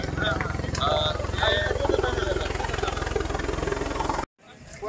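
A military rescue helicopter at a flood rescue in Ashti, Beed, beats out a rhythmic low rotor thump under loud, excited voices. The sound cuts off abruptly near the end.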